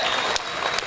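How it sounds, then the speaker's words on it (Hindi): Audience clapping at a comedy show in India, a dense burst of hand claps from a crowd filling the short stretch, loud and steady with no voices over it. "हमारे दोस्त तो ताली बजा दीजिए एक बार"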